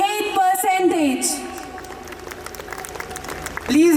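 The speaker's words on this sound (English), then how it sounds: "Please give her a huge round of applause, audience." Audience applause fills the hall at a school annual day at Little Flower Convent School, Sangrur, a steady wash of clapping that a voice speaks over at the start and end.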